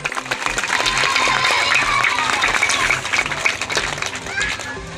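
Audience at a village panchayat ceremony honouring Class 10 toppers, where medals are presented, bursts into sustained loud clapping that fills the whole stretch, dense and steady with a few voices mixed in.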